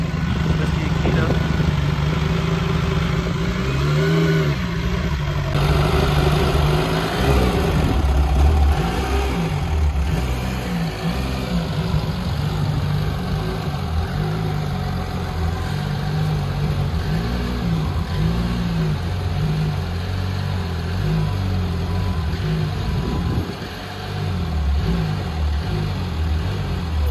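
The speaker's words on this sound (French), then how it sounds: "Elle est magnifique cette Porsche. Qu'est-ce qu'elle gueule" A Porsche 911 engine runs loudly and steadily throughout, with a deep throaty drone and some swelling revs, while people talk over it.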